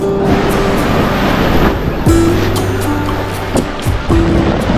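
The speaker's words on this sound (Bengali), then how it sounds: "এই দেখুন আবার একটা কি বড় ঢেউ।" Big sea waves breaking on Puri beach at high tide, a loud close continuous roar of surf with heavy wind noise buffeting the microphone and surges as each wave crashes in.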